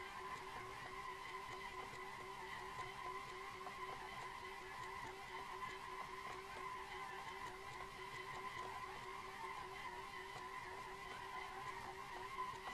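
Simulated Tofaş car drifting on a mountain road in Assetto Corsa, with a steady engine drone and continuous tire squeal running evenly throughout, fairly quiet and with no voices.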